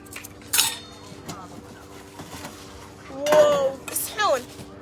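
Plates and cutlery from an aid parcel clatter and clink as they are unpacked, in short irregular bursts over a low background hum with occasional voices.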